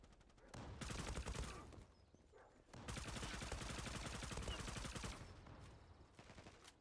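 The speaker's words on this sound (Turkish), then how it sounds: "Ben silahla spray atmaya çalışıyorum" Sustained automatic spray fire from a gun in the online shooter Zula comes as long rapid bursts of shots with short pauses between them, heard faint and at a distance.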